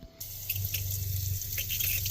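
Water runs steadily from a teardrop trailer's faucet into a sink at a campsite, a close, continuous splashing flow that starts abruptly after a brief pause.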